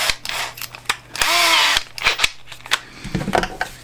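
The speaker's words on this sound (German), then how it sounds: "So, jetzt nehme ich hier meinen Akkuschrauber" A cordless drill driver whirs in short bursts and one longer spin as it unscrews a device, with clicks and handling noises between runs.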